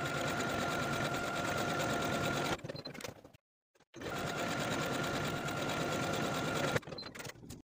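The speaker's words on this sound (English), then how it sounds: "then go ahead and sew those vertical buttonholes" A sewing machine stitches vertical buttonholes on a dress, running in a steady, rapid mechanical whir that stops briefly, falls silent, then resumes at full speed before easing off again.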